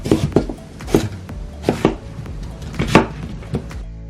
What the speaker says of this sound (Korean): 무, 양파, 배는 적당한 크기로 썰어주세요.